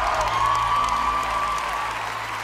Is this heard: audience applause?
yes